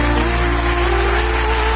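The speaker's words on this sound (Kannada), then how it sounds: "ಅನುಶ್ರೀ ಅವರಿಗೆ ಬರಲಿ ಒಂದು ಜೋರಾದ ಚಪ್ಪಾಳೆ" Applause for Anushree after her tribute dance on the Dance Karnataka Dance TV stage, a dense, steady wash of clapping with music or a sustained tone underneath, running loud and unbroken throughout.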